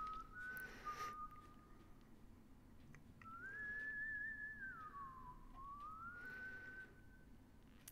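A character whistles a wavering, slowly rising and falling tune in the horror video game White Day: A Labyrinth Named School, heard alone over a dim background hum, with a short whistled note at the start.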